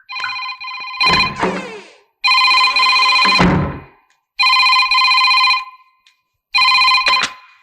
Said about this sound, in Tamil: இரு, நான் ஃபோன் அட்டன் பண்றேன்.